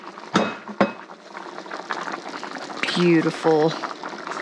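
Jambalaya broth with shrimp bubbling in a pot, a steady close rolling boil with a couple of sharp utensil knocks at the start and a person speaking briefly over it.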